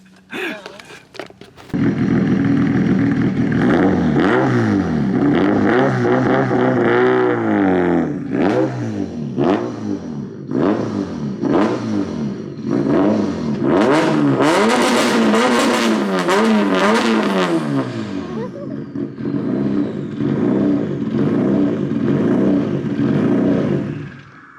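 A Pontiac Solstice fitted with an LS3 V8 accelerates hard and revs on a street, loud and close, with repeated rising engine sweeps through gear changes and a steady drone as it pulls away, no talking over it.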